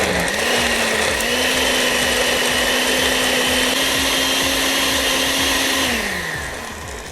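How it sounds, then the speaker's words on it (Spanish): Blender grinding ingredients for beef amarillo, a loud steady motor roar with a constant pitch that holds for several seconds and then winds down as it is switched off. "voy a licuar los ingredientes"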